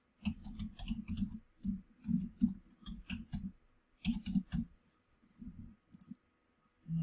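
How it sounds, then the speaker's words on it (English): Names typed on a computer keyboard in craft design software, quiet close keystrokes arriving in quick clustered bursts separated by short pauses. "I'm going to type out the names"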